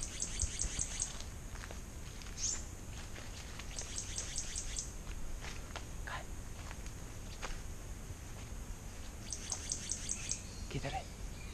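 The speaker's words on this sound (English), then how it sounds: "There's a bird." Small birds chirp in a forest near the southern tip of the Andaman and Nicobar Islands, giving bright quick bursts of tweets that come and go over a quiet rustling background, with people talking briefly nearby.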